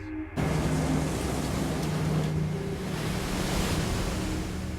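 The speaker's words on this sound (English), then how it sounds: "Between the howling winds and those giant surging waves, Miami is a very scary place to be right now." Hurricane-force winds roar continuously over giant surging waves, a dense, loud wash of wind and surf with no pauses, heard alone without voices.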